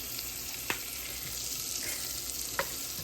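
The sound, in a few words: butter melting and sizzling in a hot pan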